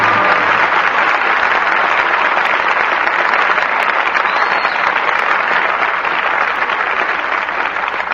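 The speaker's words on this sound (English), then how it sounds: "your applause for tonight's performance calls our stars back to the footlights" Sustained applause from a radio theatre studio audience at the end of a performance, a dense, steady wash of many hands clapping, loud and unbroken throughout with no voices over it.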